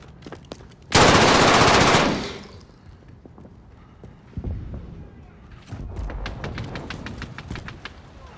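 Gunfire in Call of Duty Modern Warfare, a loud burst of automatic fire lasting about a second, followed by scattered shots, clicks and another stretch of rapid firing.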